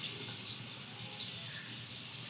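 Water runs steadily from a tap in a constant soft hiss while hands are wetted beneath it, fairly quiet and unbroken, with no talking.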